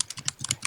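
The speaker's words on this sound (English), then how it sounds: "I can just hear your typing." Quick, light clicks of typing on a computer keyboard, several keystrokes in a loose rhythm, fairly close.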